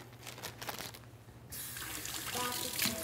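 Tap water running into a sink while key limes are washed, a soft trickle that swells into a fuller, brighter splashing stream midway through.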